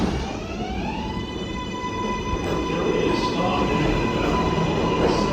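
A New York City 7 line subway train rumbles past close by, a steady roar with high metallic squeals and tones layered over it, and faint chatter in the background.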